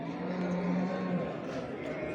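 Cattle at a busy livestock market in Göksun, Kahramanmaraş, give a low moo over a constant murmur of crowd noise and people talking.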